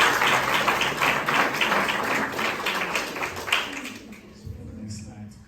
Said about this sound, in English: Give each other a round of applause.